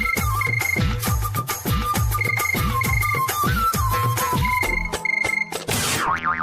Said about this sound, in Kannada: ಫೋನ್ ತನ್ನ ಪಾಡಿಗೆ ತಾನು ಬಡ್ಕೋತಾ ಇದೆ,